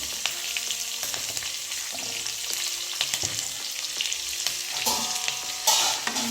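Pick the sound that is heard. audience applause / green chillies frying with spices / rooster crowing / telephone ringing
green chillies frying with spices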